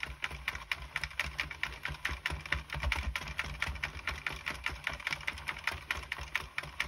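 A circular knitting machine is cranked round while casting off with waste yarn, giving a steady, quiet, rapid clicking and rattling of its needles that continues without a break.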